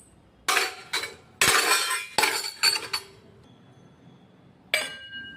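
Washed utensils dropped into a dish rack in a quick series of sharp, bright clinks and clatters up close, a cluster of hits followed by a quiet pause and one final ringing clank.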